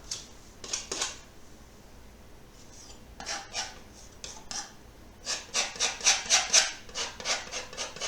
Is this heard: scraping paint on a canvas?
yes